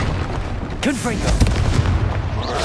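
A Confringo spell blast in Hogwarts Legacy, a booming explosive burst with swooping magical whooshes around it, set against continuous loud combat noise.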